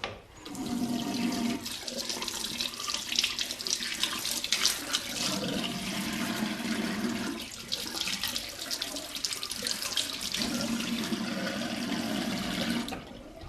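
Tap water runs steadily from a faucet while a beard brush is rinsed underneath, a close, continuous splashing rush with brief dips as the brush moves through the stream.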